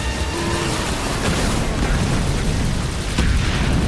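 Scarab weapon fire in Halo Wars 2 sets off a continuous barrage of loud booming explosions and bursts that rumble densely together, with a faint game voice under the din.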